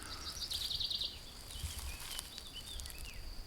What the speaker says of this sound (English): all I can hear is bird song and all kinds of noises.